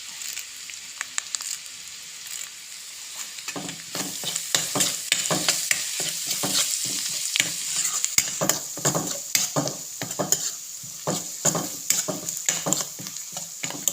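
Curry leaves hitting hot oil and being stirred into a Kottayam-style tuna fish curry in a non-stick pan: steady loud sizzling with repeated spatula scrapes and stirring strokes, close up, without talk.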